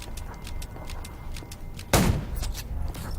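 A single loud, sharp gunshot blast in the zombie game Undawn rings out in the middle, over a steady low background hum with faint repetitive ticking.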